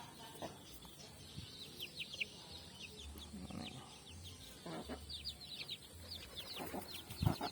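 Chicks and hens released from their cage cluck and peep as they forage on small stones and grass, a busy scatter of soft clucks and high cheeps, fairly faint, with no talk.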